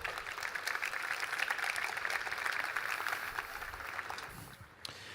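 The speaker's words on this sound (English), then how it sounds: "Let's have another round of applause." Audience applause at the JuliaCon 2024 programming conference main stage: a sustained wash of many hands clapping, fairly even throughout and tapering off near the end.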